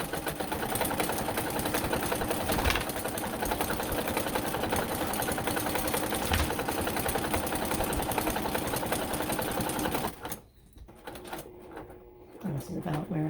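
A sewing machine runs steadily over a seam with a small stitch length, a loud close continuous rapid whirring hum that stops abruptly near the end, leaving brief quieter handling sounds.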